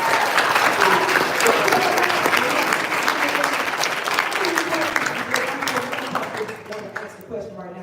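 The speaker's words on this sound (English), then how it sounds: "I wanna give a round of applause for" Steady applause from a live event audience, dense and sustained through most of the stretch, with a voice talking over it before the clapping thins out and fades near the end.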